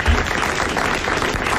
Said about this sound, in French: vous allez applaudir Madame Pournin d'Angoulême